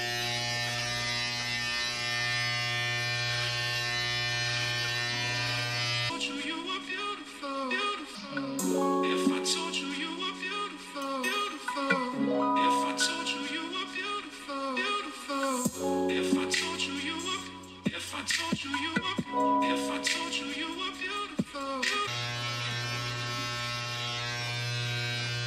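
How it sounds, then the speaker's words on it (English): Electric hair clippers trimming armpit hair, a close, steady buzzing hum that shifts in tone and gets choppier as the blades move through hair, then settles back to an even whine near the end, with no talking. "I literally just turn on my clippers and start trimming up"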